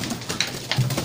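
A pigeon gives a short, low cooing call close by, amid faint rustling and handling noise.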